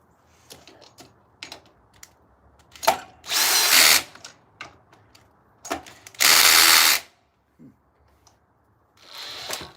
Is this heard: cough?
no